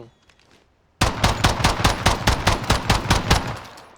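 Rapid automatic gunfire in a shooter video game, a loud burst of about a dozen evenly spaced shots that starts abruptly after a quiet moment and runs to the end, with a faint clicking beforehand.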